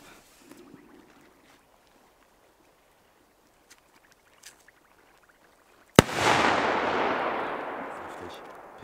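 A Polish Torpedo firecracker goes off with a single sharp, loud bang, followed by a dense roaring crackle that fades slowly over a few seconds, after quiet outdoor ambience with faint scattered distant pops.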